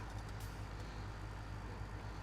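A big truck in the video game Farming Simulator 17 rumbles along with a low, steady engine drone and a faint hiss of air brakes, heard fairly quietly with no speech over it.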